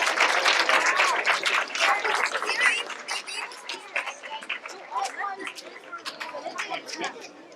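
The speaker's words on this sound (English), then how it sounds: "Give them a big round of applause for this, please." Audience applause at a school science fair, a dense wash of many hands clapping that is loudest at first and thins into scattered claps, with crowd chatter mixed in.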